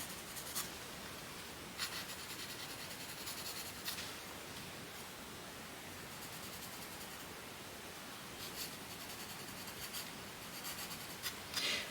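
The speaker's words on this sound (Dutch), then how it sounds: "Ik zit ook wel gefocust te tekenen" Pencil sketches on paper in a continuous close scratching as a bust's head is drawn, even strokes with a few brief sharper scrapes, no voices.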